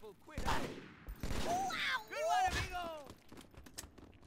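Gunfire from the Halo 2 video game: bursts of shots mixed with whooshing, sweeping game effects, with voices heard faintly in the mix.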